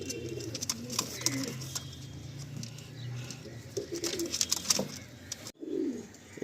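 Andhra pigeons in a Kolkata loft give low, rolling coos close by, repeated in overlapping phrases amid wing flutters and small knocks, with a brief pause near the end.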